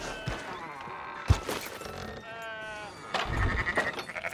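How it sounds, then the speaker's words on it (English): Sheep bleat in a Red Dead Redemption 2 game scene, with several wavering calls from the animals near and moderately loud, a brief thump partway through, and background game ambience. "Fine sheep."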